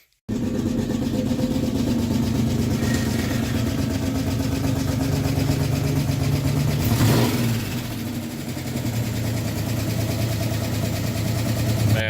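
Lexus LS400 drift car engine cranks into life and settles into a steady, loud idle with a rough rumbling note, briefly changing pitch partway through as the throttle is blipped, heard up close in a garage.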